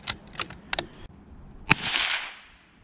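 A Marlin 25M .22 WMR rifle fires one sharp, close crack, followed by a short hissing tail, with a few lighter mechanical clicks just before it.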